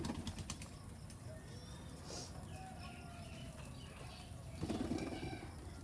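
Rajshahi giribaz and racer pigeons flapping their wings nearby, soft fluttering bursts over faint background noise, with a slightly louder flurry near the end.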